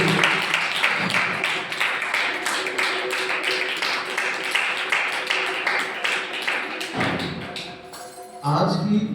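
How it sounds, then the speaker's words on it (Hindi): A church congregation claps together in a steady, rhythmic beat, loud and sustained for about eight seconds, with voices mixed in under the clapping before it breaks off near the end. "सब लोग ताली बजा के परमेश्वर को धन्यवाद करें"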